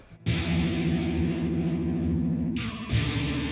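Electric guitar run through an EHX Poly Chorus pedal with the sweep rate turned all the way up, giving a loud, continuous warbling distorted tone that cuts briefly near the end and then resumes.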